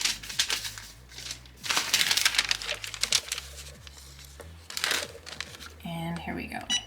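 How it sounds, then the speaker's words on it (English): Butcher paper is laid down on a heat press, giving close, busy crinkling and rustling with soft crackles and a few taps, and a voice underneath. "I'll put my butcher paper down."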